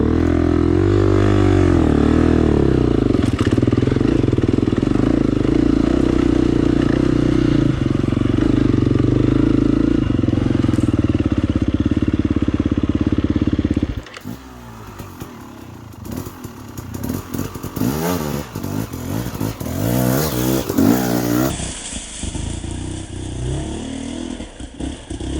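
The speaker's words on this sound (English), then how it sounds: "He rides this log about like Graham Jarvis would ride this log" Dirt bike engine revs and labors as it climbs over a log on a single track trail at Buffalo Mountain, Hatfield and McCoy Trails, loud at first, then dropping to uneven, fainter revving and clatter.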